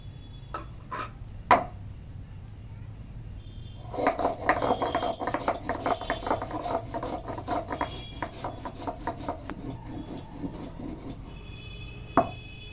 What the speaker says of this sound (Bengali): তো প্রথমে আমি মৌরিটা বেটে নেবো